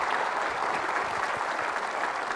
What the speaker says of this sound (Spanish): Fuertes aplausos al Rey de Reyes y al Señor de Señores.